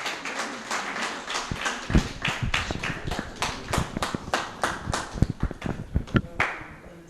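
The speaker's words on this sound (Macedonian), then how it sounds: "Ве молам за еден аплауз" Small audience at a book promotion event clapping by hand, a loose irregular run of distinct, fairly close claps rather than a dense roar, lasting several seconds with no talking.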